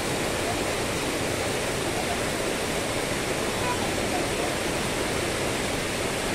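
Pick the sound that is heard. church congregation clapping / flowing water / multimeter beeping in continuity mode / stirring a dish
flowing water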